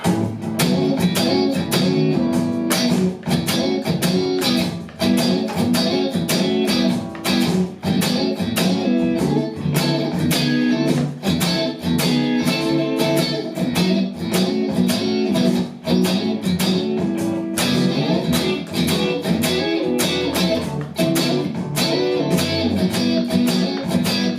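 A dense, steady blues band groove with strummed rhythm guitar chords riding over a full backing track, continuous and loud throughout.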